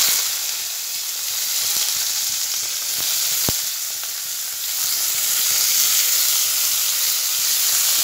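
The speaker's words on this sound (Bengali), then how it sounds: "সবজিগুলো আমি এবার দিয়ে দেবো তেল।" Vegetables fry in hot oil in a wok, giving a steady, close sizzling hiss throughout with a few faint clicks of a utensil and no talking.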